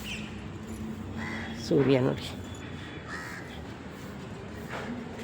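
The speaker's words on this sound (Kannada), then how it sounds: "ಗಿಳಿನ ಏನೋ ಕೂಗ್ತಾ ಇದೆ" A parrot calling outdoors near a sunny home garden: one harsh, harmonic squawk rises briefly over a quiet background, with a few fainter calls around it, while a person speaks briefly.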